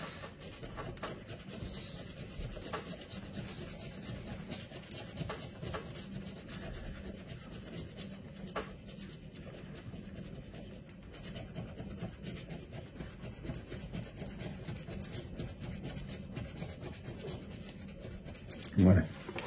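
Scratch card being scratched, a steady dry rubbing and scraping that runs close-up throughout, with a brief louder knock near the end.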